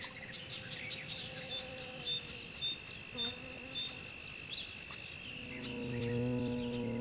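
A monkshood bumblebee buzzes in short, low hovering bursts around monkshood flowers, rising to a louder, closer hum near the end, over a steady high whine of crickets and other insects.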